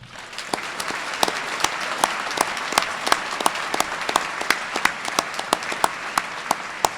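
Audience at a fall university graduation ceremony claps for PhD graduates, a sustained wash of applause with sharp, distinct individual claps standing out regularly over the steady crowd noise.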